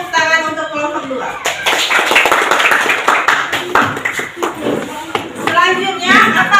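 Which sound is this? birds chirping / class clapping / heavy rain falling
class clapping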